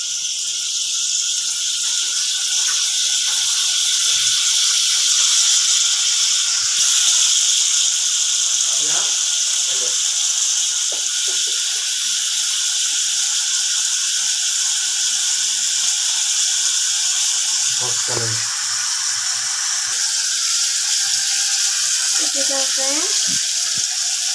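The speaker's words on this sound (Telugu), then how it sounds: "నూనె వేసి వేయించాలి" Food frying in oil in a home kitchen, a steady loud hissing sizzle running throughout, with occasional clinks and stirring knocks and brief voices in the background.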